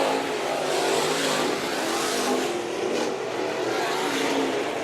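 Race cars roar around the track at Bakersfield Speedway during a heat race at the Budweiser Nationals, a dense, loud, continuous engine drone from a pack of cars with no clear gaps.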